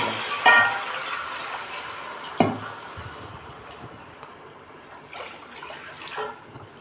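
Water poured by the glassful onto cooked rice for sweet zarda rice: splashing, gushing pours with two sharper splashes near the start, fading to a softer trickle, close and moderately loud, without speech.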